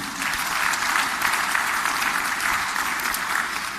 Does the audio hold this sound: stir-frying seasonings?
no